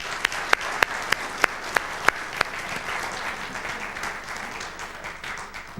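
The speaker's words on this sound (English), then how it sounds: "I would suggest a round of applause to the management team for doing all this work in-house" A room applauds the management team in a workplace meeting, with steady mid-level clapping throughout and a few sharp, louder claps standing out in the first half.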